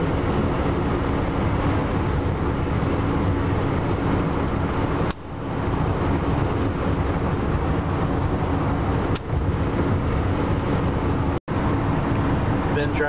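A car's cabin fills with a loud, steady drone of engine and road noise as it resumes speed on cruise control, continuous with no voices.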